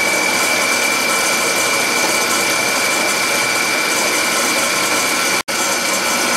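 A multi-spindle drill press attachment runs with a steady, loud mechanical whir and gear chatter, holding a constant whine throughout. One brief dropout comes near the end.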